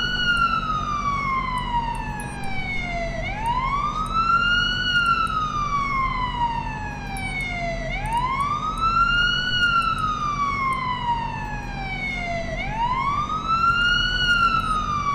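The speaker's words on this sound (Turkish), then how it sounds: "Ya gel ambulans yol ver." An ambulance siren wails in slow rising and falling sweeps in the Police Simulator: Patrol Officers video game, steady and fairly close over a low engine hum, with no talk.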